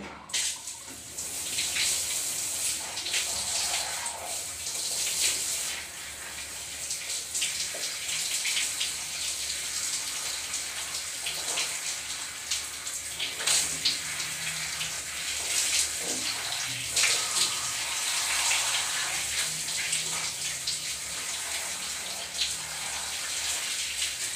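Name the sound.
running water while rinsing face after scrubbing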